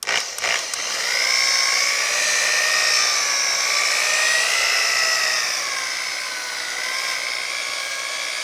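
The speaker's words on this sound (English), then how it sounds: "So I'm polishing the large areas" A polisher buffs the large panels of a 1950 Chevy five-window pickup cab, a steady high whine that holds close and loud for most of the clip and eases slightly near the end, with no talk.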